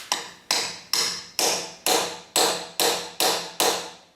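Nine sharp, evenly spaced hammer blows drive a seal tool into a Toyota 4WD closed-knuckle front axle housing, each strike loud and close with a short decaying ring, and no talking.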